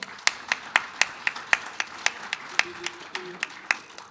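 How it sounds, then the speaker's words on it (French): Conference audience at an equestrian federation congress giving sparse, rhythmic clapping, a few distinct hand claps at a steady beat, close and sharp, with a brief voice murmuring underneath. "On vous remercie, on vous applaudit évidemment."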